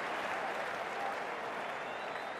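A stadium crowd in a cricket video game applauds in a dense, continuous wash of clapping that stays loud and even from start to finish.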